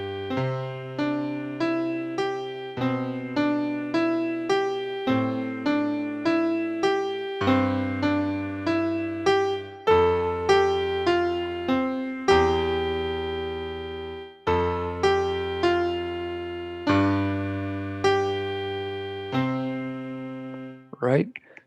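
A piano plays repeated broken-chord patterns that grow louder and then ease back softer, a steady rippling rhythm with no talking over it.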